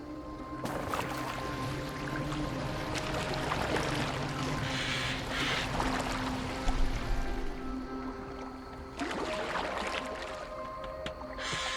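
A boat glides through water in the video game Assassin's Creed Valhalla, with a steady rushing wash and low tonal hum throughout and fuller surges near the start and end.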